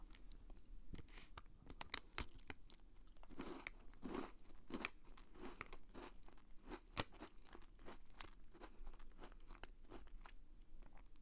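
Close-up crunching and chewing of a chocolate dagashi snack with a cocoa-cookie-style biscuit inside: irregular crisp bites and crackles come one after another over quiet mouth noises, with no voice.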